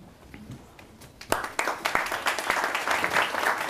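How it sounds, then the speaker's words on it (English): Audience applause for a participant at a State Department panel on water diplomacy, beginning as scattered claps and building to steady, moderately loud clapping from a crowd. "Perhaps we can just save applause for the very end."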